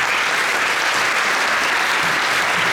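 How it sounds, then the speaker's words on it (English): Steady, loud applause from the audience at a young musicians' competition, an even wash of many hands clapping with no break. "let's keep the applause going"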